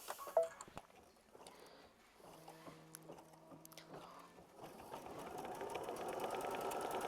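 Sewing machine stitching a quilt block design, with scattered clicks and soft taps at first, then a quiet rhythmic patter of stitching that builds into a steadier hum toward the end.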